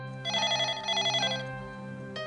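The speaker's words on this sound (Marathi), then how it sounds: "बघ आजीचाच फोन असणार." A telephone rings at night in a home, a short trilling ring sounding over a steady low background hum, close and fairly loud, then cutting off.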